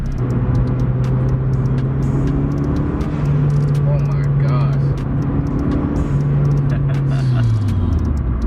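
A 350 hp turbocharged ninth-generation Honda Civic Si engine drones steadily at close range, its pitch holding then dropping, while a person exclaims over it.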